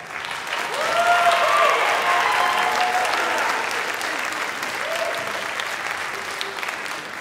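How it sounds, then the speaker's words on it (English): Concert audience applauding the soloists after a community orchestra's spring performance, a broad, steady wash of clapping that swells early, then eases while continuing to the end. "Big round of applause for our soloists."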